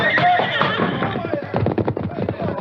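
Silver the horse whinnying in a 1942 Lone Ranger radio western, a high neigh near the start followed by quick clip-clop hoofbeats and scuffling, with dramatized voices and music running underneath.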